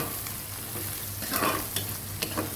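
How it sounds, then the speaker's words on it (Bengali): Bay leaves, star anise and black cardamom frying in hot oil with soft stirring while making a Hyderabadi chicken dish, a quiet steady sizzle broken by a few scraping stirs, no voices. "দিয়ে দিচ্ছি কয়েকটা তেজপাতা স্টার একটা দুটা বড় এলাচ দিয়ে একটু ভালো করে ভেজে নিচ্ছি"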